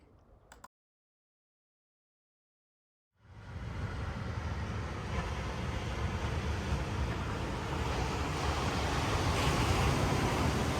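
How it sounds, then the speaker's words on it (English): Sea waves wash steadily onto a beach in the early morning, a continuous broadband roar of surf that starts abruptly after a brief silence and swells slightly louder toward the end. "The early morning glow and the sound of the sea made waking up here quite special."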